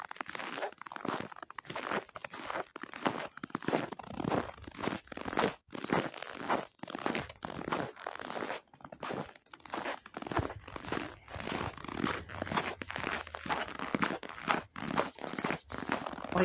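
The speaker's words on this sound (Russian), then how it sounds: "Ой, как красиво и вкусно хрустит снег" Footsteps crunch through snow in a garden plot, each step a crisp, crackling crunch in a steady walking rhythm, close and fairly loud, with no talking.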